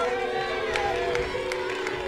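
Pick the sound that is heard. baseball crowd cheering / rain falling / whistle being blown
baseball crowd cheering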